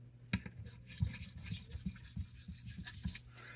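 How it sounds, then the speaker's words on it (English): A straight razor is worked across a 1k Chosera whetstone to set the bevel, producing quiet, rhythmic rasping strokes, roughly eight passes in quick back-and-forth succession, close and faint. "I am setting a bevel, and I have to remove a crap ton of metal"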